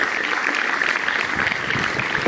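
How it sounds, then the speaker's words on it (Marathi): Loud, steady applause from a crowd at a school felicitation event, dense continuous clapping filling the short stretch with no pauses. "जोरात टाळ्या वाजवून स्वागत झालं पाहिजे"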